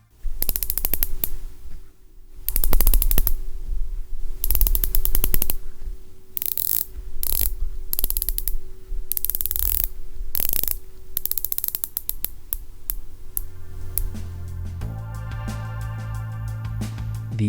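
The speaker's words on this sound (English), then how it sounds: "actuating said bezel sounds like this" A Rolex Sea Dweller 126600's Cerachrome ceramic dive bezel being rotated, giving a long run of crisp, close ratcheting clicks in bursts and steady stretches, with a brief tonal hum near the end.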